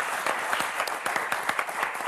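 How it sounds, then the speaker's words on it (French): Studio audience applause on the French TV game show Motus, a brief burst of dense clapping at moderate level, steady and even with no voices over it. "applaudir très fort Damien Thévenot et Amélie."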